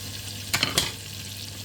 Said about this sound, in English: in the pan we're going to go in with the 25 gram of butter